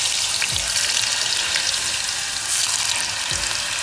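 Potatoes frying in hot oil, a loud continuous sizzle and crackle, with occasional low thumps and stirring.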